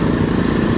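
Motorcycle engine running steadily during a ride near Nagarjuna Sagar, a loud, close, continuous drone with low rumble and no pauses.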